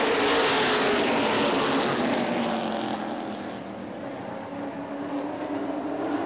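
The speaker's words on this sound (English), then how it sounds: "Bobby Henry accelerates away from McGonigal with 2 laps to go" Late model race cars accelerating on the Motordrome Speedway oval during a feature race, a loud sustained engine roar that fades slightly as the pack pulls away, with no talk over it.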